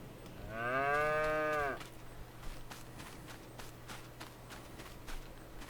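A single drawn-out moo from cattle in a farming video game rises clearly over a steady low hum, then fades into soft background clatter and faint footstep-like taps.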